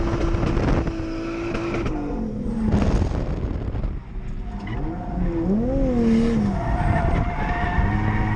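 A Lexus IS300 with a CX Racing turbo drifts on a track. Engine roar and loud tire squeal carry on almost continuously for eight seconds, with rising and falling squeal pitches as the car slides.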